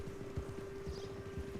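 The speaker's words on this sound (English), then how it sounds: "you can drive a carriage with a horse." Hooves of a horse pulling a carriage in a video game make a steady, faint clip-clop rhythm over a low, constant hum, with no voices.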